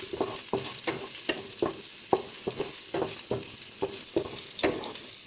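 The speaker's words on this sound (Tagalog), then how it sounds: "So, ilagay na natin yung bawang, garlic. Yan, haruin natin." Garlic sizzles in a hot pan while a utensil stirs it, making soft frying hiss broken by regular scraping taps, quiet and close with no talking.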